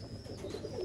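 A breeder pigeon gives a soft, low coo, faint and brief against a quiet background.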